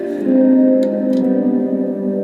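Sustained guitar chord washed in room reverb, ringing and spacious, with a couple of faint plucked notes over the lingering tone.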